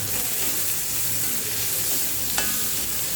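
Onions with salt sautéing in a pan for sambar, a dense steady sizzle close by with one brief stir clink near the end.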